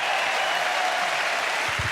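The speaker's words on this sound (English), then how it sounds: "There's a big round of applause for this brave gentleman." Live comedy show audience breaking into a big round of applause for a man coming up to the open mic, a steady, loud wash of clapping from a large crowd.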